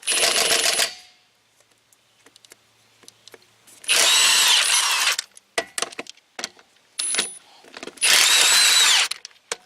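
A power tool spins off a car's 22mm wheel lug nuts while replacing a stripped wheel stud, in three loud, sharp bursts a few seconds apart with quiet pauses between and no talking.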